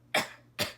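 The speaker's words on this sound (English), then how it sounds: "Sorry, getting over a cold, so please forgive any coughing" Two close, sharp coughs in quick succession from someone recovering from a cold, each a short breathy burst, with no talk around them.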